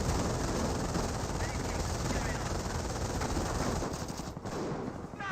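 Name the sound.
gunfire in video game Company of Heroes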